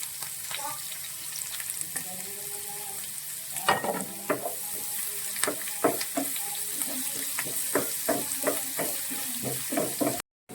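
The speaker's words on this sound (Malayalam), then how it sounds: "ആദ്യം നമുക്ക് വെളുത്തുള്ളി, ഇഞ്ചി ചോപ്പ് ചെയ്തത്, പച്ചമുളകും കൂടിയിട്ട് നന്നായിട്ടൊന്ന് സോട്ട് ചെയ്യാം" Chopped garlic, ginger and green chilli sauté in a pan for paneer butter masala, a steady fry broken by clicks and scrapes of stirring, close and without talk.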